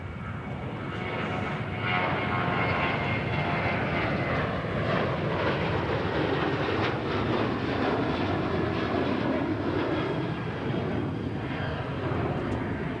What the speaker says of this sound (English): Qantas 491 is over the runway landing before 895 is cleared the runway